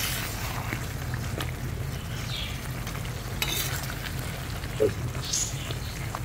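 Fish karahi with green chillies frying in hot oil, a steady soft sizzle with occasional stirring clinks and small pops, fairly quiet and continuous throughout.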